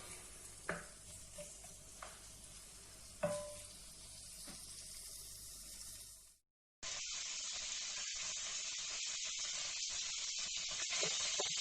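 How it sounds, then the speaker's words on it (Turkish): Liver sautés in a pan, starting with a quiet sizzle punctuated by a few sharp utensil knocks, then after a brief silence a much louder, dense hissing sizzle crackles continuously. "Şimdi bunu kavurmaya bıraktım."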